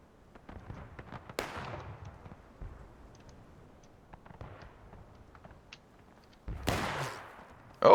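Gunfire crackles through a Civil War battle video game, scattered musket pops with a couple of heavier, louder volleys, fairly faint overall and rising toward the end.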